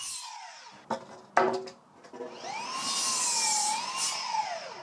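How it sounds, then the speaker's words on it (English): A power saw cuts wooden floor joists for a large shed, set against a stop block: sharp knocks and a short clatter as the lumber is positioned, then a loud, steady, whining cut that rises and dips in pitch. "Once my stop block is right where I want it, I get all my floor joists cut."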